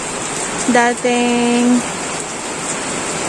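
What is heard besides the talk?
heavy rain during Typhoon Ulysses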